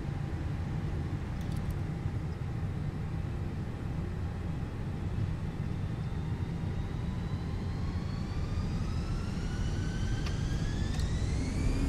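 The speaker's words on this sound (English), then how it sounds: "Parking brake released. Take off." An Airbus airliner spools up to takeoff thrust, a steady loud broadband jet roar with rising whine tones building toward the end of the roll.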